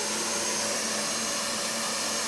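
Electric mixer whipping a fresh blueberry marshmallow mixture in a bowl, a steady, loud whirring motor drone with no breaks, heard alone without talk.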